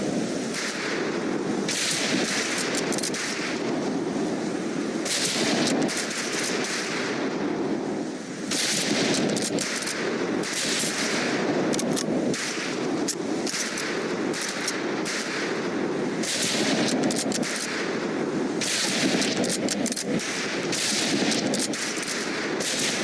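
Rifles crack in dense, overlapping volleys at a firing range in the video game Medal of Honor: Pacific Assault, a loud and sustained barrage of shots with hardly a pause.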